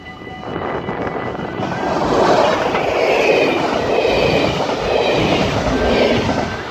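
A train rushes past at high speed with a loud, sustained roaring rumble and rattle of wheels that swells and holds, with no voices.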